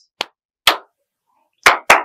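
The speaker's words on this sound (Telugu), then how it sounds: "full claps" Four sharp, close hand claps standing alone in silence, spaced irregularly: one, a second half a second later, then a quick pair near the end.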